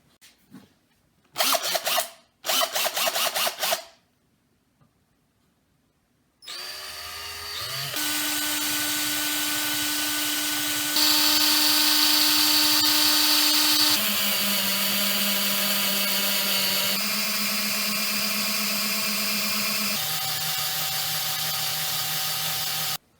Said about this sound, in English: So in order to drill this big hole, I'm going to use different drill bits